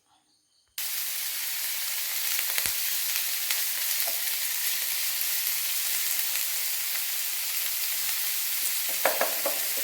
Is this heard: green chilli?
yes